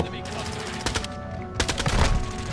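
Dense automatic gunfire and explosive bursts from a Call of Duty MW2 multiplayer match, rapid loud shots in two main clusters with constant battle noise between them.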